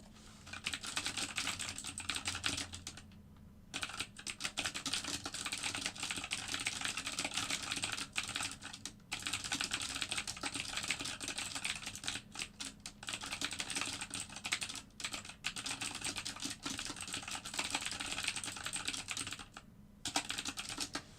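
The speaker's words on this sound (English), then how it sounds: "Sorry, I know my typing is really loud." Continuous rapid typing on a computer keyboard, dense clattering keystrokes close by with a few brief pauses.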